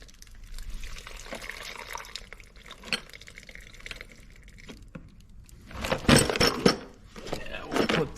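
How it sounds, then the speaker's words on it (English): Water drains out of a mini crawler excavator's 13.5 HP Briggs & Stratton engine, trickling and dripping quietly at first, then gushing in louder splashing bursts toward the end. "Drain all that water out"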